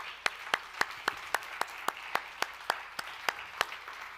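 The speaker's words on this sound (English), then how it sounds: "And a round of applause to all our finalists." Sparse, evenly spaced hand claps ring out one at a time at a food-and-drink competition livestream as the finalists are applauded, each clap sharp and distinct in a quiet room, like a single person clapping alone.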